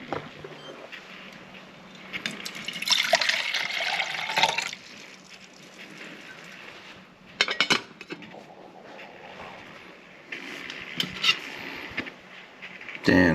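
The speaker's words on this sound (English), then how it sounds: "So now let's get some water on there." Water is poured and splashed into a pot sitting on a titanium alcohol stove, coming in several gurgling bursts with quieter stretches between them, close by.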